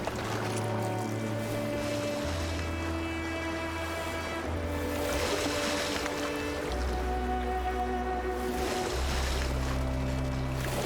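A boat is paddled across water in the video game Detroit: Become Human, with sloshing, splashing strokes over a steady watery wash and low droning tones of the game's music.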